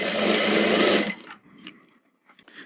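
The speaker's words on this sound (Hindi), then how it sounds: "देखिए स्लीव्स लग जाने के बाद इसमें भी डबल सिलाई कर देनी है दूसरी।" A sewing machine runs a fast, steady stitch along a sleeve for about a second, then stops, leaving faint small clicks and handling sounds.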